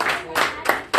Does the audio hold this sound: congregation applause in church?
yes